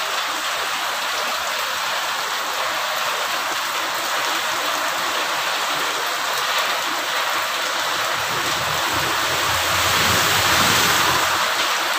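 Heavy rain pours down in a steady, dense roar close by, unbroken throughout, as the area outside begins to flood.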